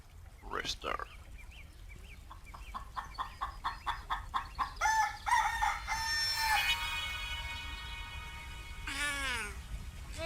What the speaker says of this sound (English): Ah, rooster.